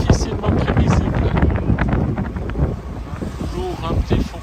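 Strong headwind buffets a sailboat heading upwind off the Greek island of Euboea, a loud continuous roar of wind on the microphone mixed with water noise, with a person talking over it.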